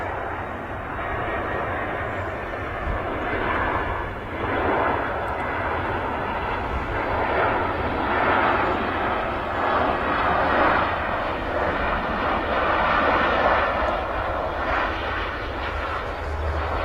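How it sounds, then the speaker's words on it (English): Jet airliners, an EasyJet and a KLM, taxi at Manchester Airport, their engines giving a steady, distant roar and whine that holds level for the whole stretch with mild swells, heard outdoors without talk. "Got two aircraft on the taxi out at the moment. Got the EasyJet from earlier and then a KLM."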